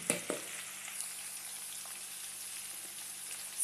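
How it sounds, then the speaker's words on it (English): Garlic tempering in a pan for poha hisses in a faint, steady sizzle. Small crackles pop through it, with a slightly louder spatter at the very start and end. "See that the garlics are not overcooked, because this plays the main role in the whole savior. Be careful, these start crackling up."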